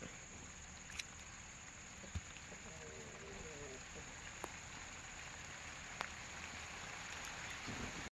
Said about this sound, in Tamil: மழை வருது வேறு.